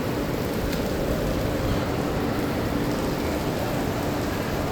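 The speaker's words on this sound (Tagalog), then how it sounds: "Ang lakas ng ulan." Heavy midday downpour, the strongest rain of the year, pours as a dense, steady roar of close rain with no pauses and no voices throughout.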